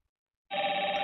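A Phoner Lite softphone rings with an incoming call routed through a FreePBX system, the electronic ring starting abruptly after half a second of silence and sounding steady, loud and close with no talking.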